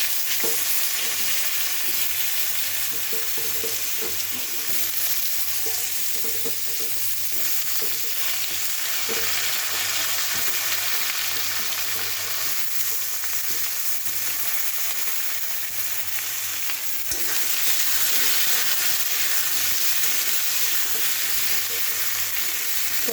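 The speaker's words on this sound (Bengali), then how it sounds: "এখন আমি ফোড়ন দিই।" Spices tempering and cut potatoes and chickpea shoots frying in hot oil for a Bengali fish curry, a steady loud sizzle with stirring scrapes, brightening sharply near the end as more goes into the pan.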